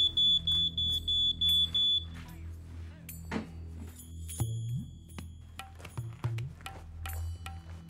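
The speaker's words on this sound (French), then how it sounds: "si le détecteur de monoxyde de carbone sonne l'alarme" A carbon monoxide detector alarm gives a run of rapid high-pitched electronic beeps in short repeated bursts, then stops, leaving quieter clatter and faint background sounds.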